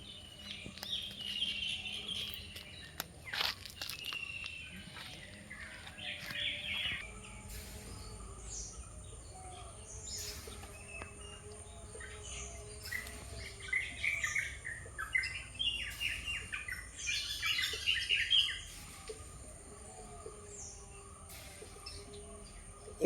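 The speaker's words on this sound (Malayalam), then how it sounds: "കിളികളുടെ ശബ്ദം കേട്ടോ" Wild birds gather behind someone in a rural Kerala home setting and chirp and tweet in scattered faint bursts over about twenty seconds, with busier calling near the end and a quiet background throughout.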